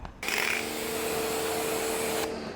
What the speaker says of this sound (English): Now, what I would do on this, I'm gonna rinse it down.